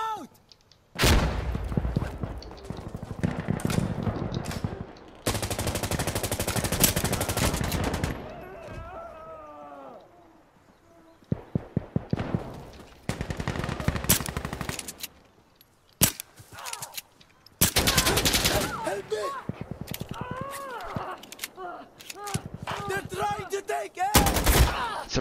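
AK rifle gunfire in the shooter game Insurgency Sandstorm: loud, close bursts of rapid automatic fire repeating across the clip, broken by short pauses and scattered single shots, with voices talking between and over the volleys.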